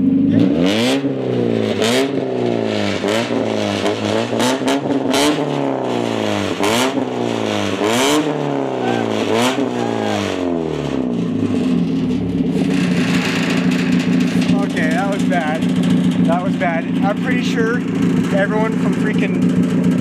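A loud sports car engine revs hard in a string of rising and falling bursts, then settles into a deep, steady rumble with voices over it.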